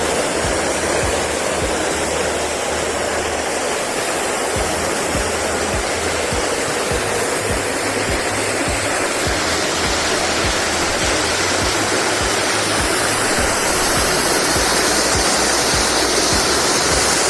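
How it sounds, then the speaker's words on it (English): Davidson's Linn, a twin waterfall in Northumberland, roars in a loud, dense, unbroken wash of falling water heard close up throughout. "Davidson's Linn, everybody, one of the named waterfalls in Northumberland."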